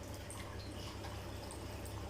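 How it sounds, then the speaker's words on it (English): Steady running tap water rinsing a glass microscope slide, a continuous splashing hiss with faint dripping, close and even throughout. "wash the glass slide with running tap water"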